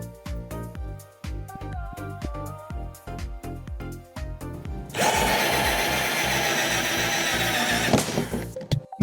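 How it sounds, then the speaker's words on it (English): A power drill bores a hole through the side of a galvanized stock tank being converted into a cold plunge. It opens with short stuttering bursts, then settles into a steady, loud grinding whine that runs for several seconds before cutting off. "And now we want to use the drill and this piece here"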